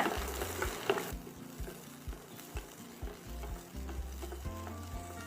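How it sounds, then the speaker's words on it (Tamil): Small onions sautéing in oil give a steady close sizzle and spatter, with quick rhythmic stirring scrapes and a few louder clatters of the spoon against the pan, no voices. "சேர்த்துட்டு ஒரு 2 நிமிஷம் வெங்காயத்தை வதக்கிக்கோங்க"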